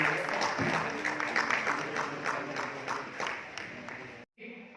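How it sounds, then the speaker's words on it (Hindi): Loud applause from an audience at an annual festival and award ceremony of a service association in Puri, steady clapping for about four seconds before a brief cutoff, with some talk mixed in. "गोटे जोरदार करताली दे"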